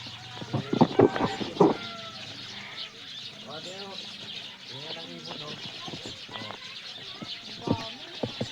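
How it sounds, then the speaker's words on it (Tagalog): Short bird chirps and coos sound faintly at a distance, with children talking loudly over them for most of the time. "Ibon nga yan."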